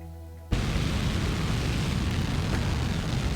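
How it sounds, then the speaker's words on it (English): A rocket launches in Kerbal Space Program 2 with a sudden loud burst, then a sustained, dense engine roar that stays steady and close for the rest of the clip. "So we'll start off by actually launching the rocket."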